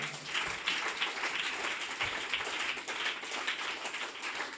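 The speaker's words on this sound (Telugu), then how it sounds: "దేవునికి మహిమ వచ్చేటట్లు చప్పట్లు కొట్టండి ఒకసారి" A church congregation claps together in praise of God, a dense, steady patter of many hands, fairly close and sustained throughout with no clear breaks.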